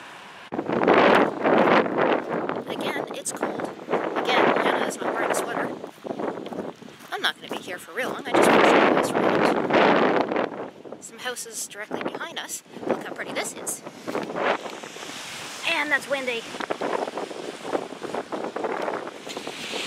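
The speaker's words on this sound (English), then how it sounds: "I don't know if you can hear me, it's really windy." Strong wind gusts buffet the microphone at the seaside at Crocker's Cove, roaring in loud surges with brief lulls, while a person talks through much of it.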